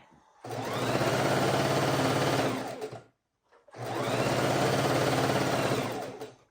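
A sewing machine runs steadily for a couple of seconds, stops briefly, then whirs again at the same fast, even pace, close and loud.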